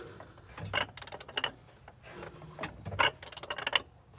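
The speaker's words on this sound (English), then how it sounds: "you're gonna put your ratchet on this bolt right here, and you're gonna turn it" Ratchet wrench turning an engine bolt on a 2019 Subaru Forester during engine removal, a series of quiet close clicking bursts in irregular runs with short pauses between.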